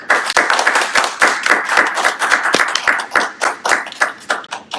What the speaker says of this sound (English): Let's give Dawn a round of applause.